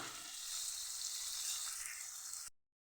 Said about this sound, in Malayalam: ഉള്ളി ഒന്ന് വഴറ്റാം.